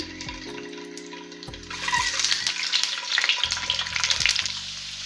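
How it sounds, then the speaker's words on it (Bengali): Eggs frying in oil with a little salt in a pan, a steady crackling sizzle that grows louder midway, with a low background hum and occasional clicks. "ডিমগুলো শুধু এমনিতে একটু লবণ দিয়ে ভেজে নেব।"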